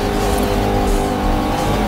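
Sports car engine roaring steadily in a car-versus-motorbike racing video game, a loud continuous high-revving drone with faint tire noise and no talk.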